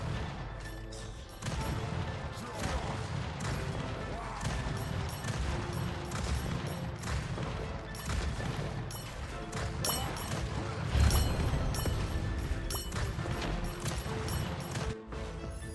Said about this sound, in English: It just fires them up, and they come down like mortar strikes.